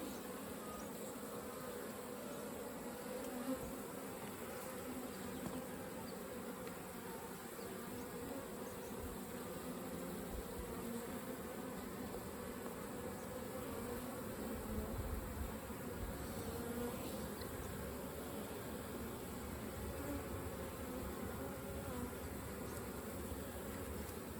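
Honeybees hum in a dense, continuous buzz around a hive, fairly quiet and steady throughout, with no voices.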